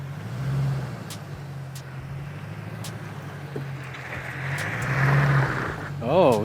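A 2nd gen Toyota Sequoia's engine drones steadily while its wheels spin, the revs swelling near the end, with someone talking over it.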